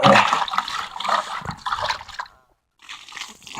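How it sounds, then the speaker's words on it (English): Water sloshes and splashes loudly as an old animal feeding bucket is rinsed out, in close, turbulent bursts that stop briefly before another rush of water. "I'll just take this one here and wash the old bucket out."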